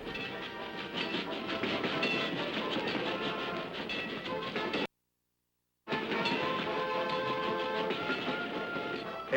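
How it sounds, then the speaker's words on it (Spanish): Trains packed with soldiers approach the capital, with a steady, loud rolling rumble of rail cars and wheels that continues without pause apart from a short gap of silence. "Los trenes repletos de soldados se acercaban a la capital."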